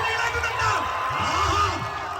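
Spectators at an all-Kerala heavyweight tug-of-war contest raise a steady wash of cheering and crowd noise, with shouts and whoops rising above the din; an announcer's voice carries over the crowd throughout.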